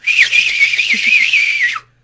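A voice imitates a sharp, shrill whistle, one sustained wavering note held for nearly two seconds and cut off abruptly, close and loud.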